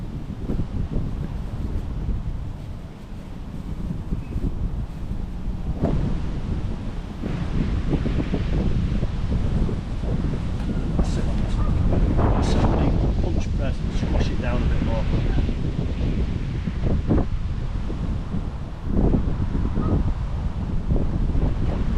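Strong wind buffets a microphone at a quayside fishing spot, a continuous loud rumbling roar with gusting surges, and a voice talks intermittently underneath.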